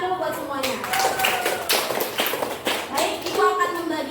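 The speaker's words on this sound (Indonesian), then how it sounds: "tepuk tangan dulu buat semuanya" Children in a classroom clap together in a quick, uneven burst of hand claps, close and fairly loud, with a teacher's voice talking over and around the applause.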